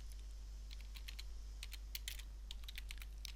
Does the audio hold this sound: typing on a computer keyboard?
yes